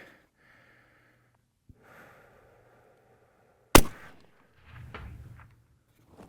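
A single sharp rifle shot cracks out near the middle during a hunting outing with game bags, followed by a short decay, scattered soft rustling and breathing, and a low rumble of movement afterward.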